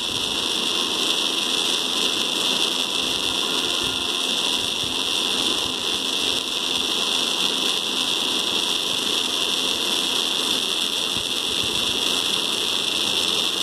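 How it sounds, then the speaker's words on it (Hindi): Two DC gear motors running on an L298 driver module give a steady, continuous high-pitched whir that holds unchanged for the whole stretch, with no talking. "तो दोनों मोटर चलने लगेगी"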